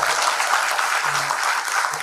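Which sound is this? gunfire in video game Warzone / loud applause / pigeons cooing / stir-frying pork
loud applause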